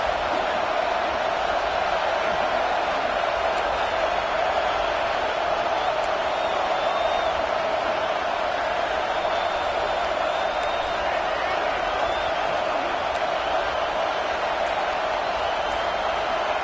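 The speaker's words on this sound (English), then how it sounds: "listen to this crowd noise. This stadium is vibrating." A stadium crowd at an A&M versus OU football game makes a steady, dense roar that holds at an even level throughout, with no breaks.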